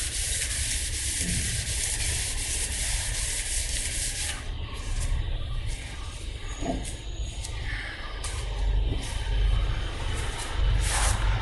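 Steady abrasive rubbing of sandpaper across car paint, continuous and close, with occasional faint clicks and shifts in pressure from leftover grit.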